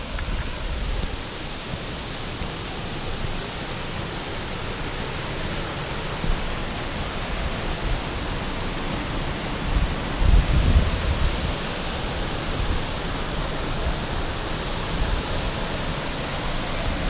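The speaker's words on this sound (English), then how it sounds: "This is the feeder stream to the waterfall." A mountain stream rushes just above a waterfall on Cadair Berwyn, a steady, full, close roar of churning water with no pauses or voices.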